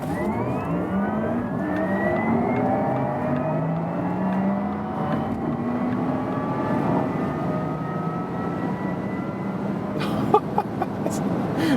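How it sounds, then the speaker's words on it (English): Porsche Taycan Turbo S accelerating hard from low speed with its electric sport sound active: a loud synthetic hum that sweeps steadily upward in pitch under road and wind noise, with a few sharp knocks near the end. "there's this additional electric sports sound activated, and brace yourself because this acceleration here is absolutely insane"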